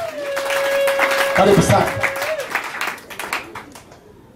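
A funeral congregation claps and ululates together, the clapping swelling under a speaker's voice and a long held vocal tone before tapering off.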